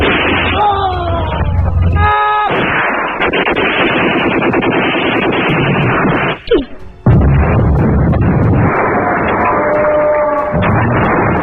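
Gunfire in a battle scene between Indonesian fighters and Dutch troops: dense bursts of shots and blasts that roll on almost continuously, loud and up close, with a brief gap near the middle.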